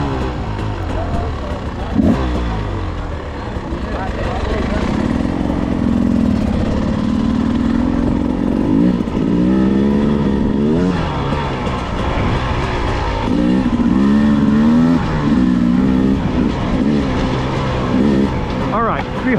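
A Beta 300 RR Race Edition two-stroke dirt bike engine revs repeatedly at a demo day, loud and close, rising and falling in short bursts over a steady idle, with people talking now and then.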